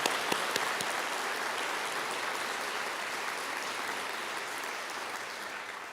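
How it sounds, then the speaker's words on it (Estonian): A room of judges breaks into sustained applause for a colleague's birthday, dense and even, with a few sharp claps at the start before it tapers slightly. "Teeme Enele ekstra aplausi, sest Enel on täna sünnipäev."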